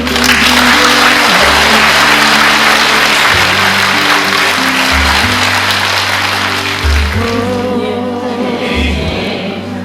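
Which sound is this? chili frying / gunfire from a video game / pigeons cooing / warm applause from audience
warm applause from audience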